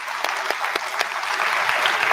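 A community event crowd gives a round of applause for the blue-shirted volunteers, steady dense clapping with a few sharper claps standing out, continuous and fairly loud throughout.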